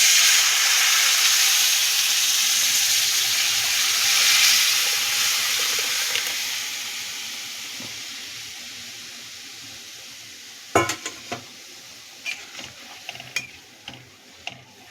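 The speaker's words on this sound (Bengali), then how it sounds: "এবার আমি দিয়ে দিচ্ছি সেদ্ধ করা ডাল।" Boiled dal poured into a hot pan for tok dal sizzles loudly as a broad hiss that slowly fades. Toward the end, a few sharp clicks of stirring break through.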